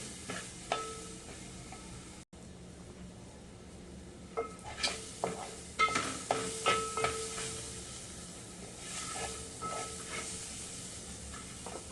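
Green chilies fry in hot oil in a pan for a dry potato bhaji: a soft continuous sizzle runs under scattered scrapes and clinks of a spatula stirring, with no voices.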